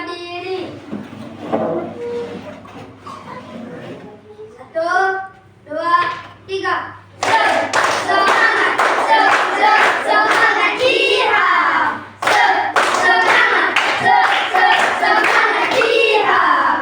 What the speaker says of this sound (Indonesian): Yel-yelnya tepuk semangat koboi.